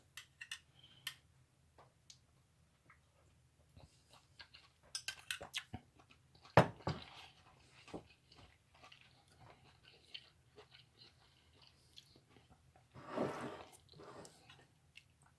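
Quiet chewing and biting of vegetable stew made with beef bouillon, soft irregular crunches and clicks close up, with a louder burst near the middle and another toward the end.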